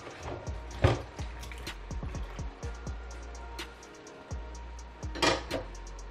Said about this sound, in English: I'll just wash and put in the pot.